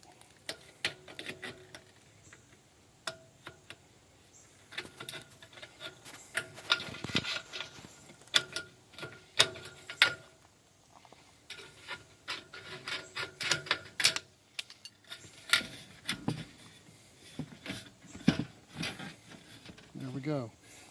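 Metal sheeting being cut for a wooden well house install, giving repeated rasping, scraping strokes in irregular bursts, close and moderately loud, with occasional knocks and tool handling between them.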